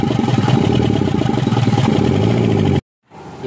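Isuzu Elf truck engine with a wiring fault running at low power, a steady close rumbling idle that cuts off abruptly near the end, then briefly resumes.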